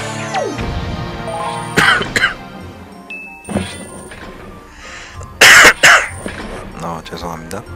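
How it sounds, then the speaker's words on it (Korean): Someone coughs in two clusters of harsh, loud bursts near the microphone, sounding over game music and effects from The Legend of Zelda: The Wind Waker. "또 기침이 왜 이렇게 나는지"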